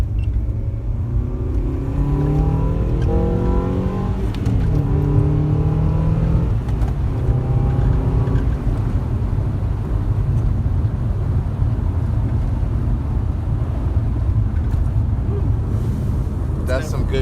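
A car engine revving hard with VTEC on cold backroads, its pitch sweeping up repeatedly through several gear pulls, loud and steady under wind noise with people talking in the cabin.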